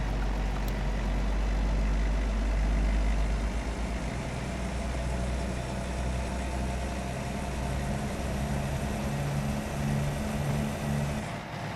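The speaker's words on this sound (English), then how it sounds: "this engine pulls so much nicer than the Kenworth" A truck engine in American Truck Simulator pulls steadily under load, a continuous low drone with a loud rumble that holds even for the whole stretch, with no talk over it.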